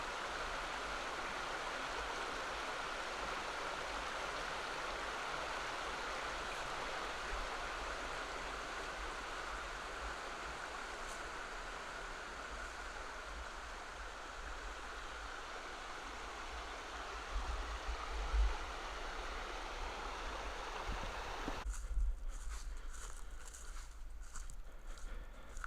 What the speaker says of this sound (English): Nothing more soothing, it seems like, than the sound of water.